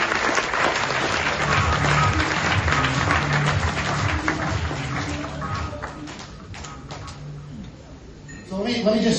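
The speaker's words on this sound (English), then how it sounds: "give a round of applause to all the devs and to all the tech team and to the CTO" Audience applause at a tech project presentation, a dense wash of clapping with music underneath, fading somewhat toward the end before a brief swell.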